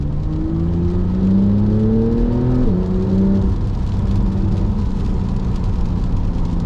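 A BMW M340i engine revving up through the gears while driving, its rising tone falling away at a shift, then settling into a steady, loud cabin drone with road noise.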